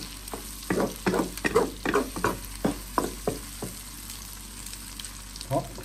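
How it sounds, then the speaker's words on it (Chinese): Eggs and chili peppers whisked together in a bowl, a string of sharp clattering strokes in uneven rhythm for several seconds, then a pause and one last stroke, close and fairly loud with no talk. "然后把鸡蛋和辣椒搅拌均匀"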